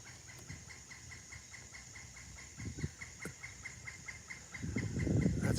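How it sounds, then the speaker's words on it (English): A rapid series of high, evenly spaced calls from a pileated woodpecker rings out overhead in woods, with rustling and low noise building near the end. "There's a woodpecker right above me."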